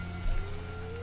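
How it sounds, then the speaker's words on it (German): Rain falls in The Witcher Enhanced Edition as a brief, steady patter under a low, sustained musical hum, with no voices. "es regnet zwar wie Hülle"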